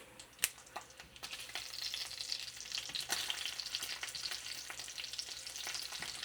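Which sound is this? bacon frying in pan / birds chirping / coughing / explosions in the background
bacon frying in pan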